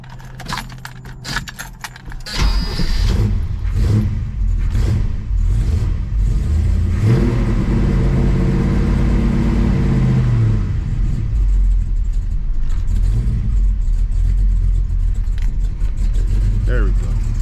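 A motorized 24-inch SE SoCal Flyer bike engine starts after a few keys jangling and rattling, then runs loud and close with uneven revving, spluttering and rising and falling pitch, with a voice speaking over it.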